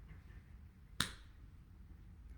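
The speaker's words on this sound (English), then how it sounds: "we will get started any second now when I will clap my hands" A single sharp hand clap, close and crisp, standing out against a quiet room with no one talking.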